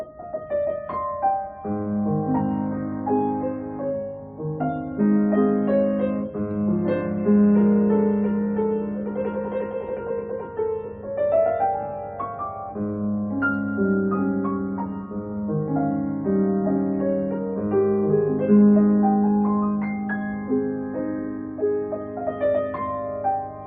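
Solo piano plays the slow, expressive main theme of a Liszt piece over flowing accompaniment, sustained and lyrical, moderately loud and uninterrupted by speech.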